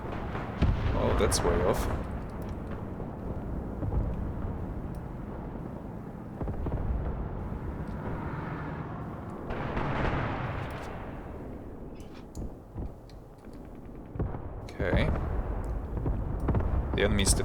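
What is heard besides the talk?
artillery strike explosions in Graviteam Tactics video game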